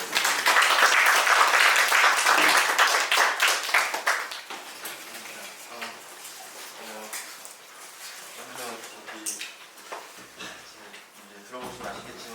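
Loud audience applause at a sociology lecture welcoming a Seoul National University professor, dense clapping for about four seconds that thins and fades, then scattered claps and room noise while a voice begins speaking.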